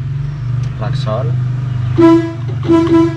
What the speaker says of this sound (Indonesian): Klaksonnya asli.